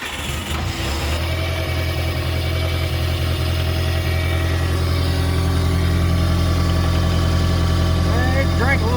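A Bobcat 743B skid steer engine catches and settles into a steady, loud diesel idle with a constant low rumble throughout.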